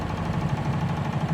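Yanmar TS230 single-cylinder diesel engine running at idle, a close, steady low throb with rapid regular knocking pulses throughout.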